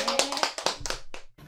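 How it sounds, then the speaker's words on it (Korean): A group of people in a painting class clap their hands together, a brief burst of overlapping sharp claps that tails off within about a second and a half. "우리 박수 한번 치고"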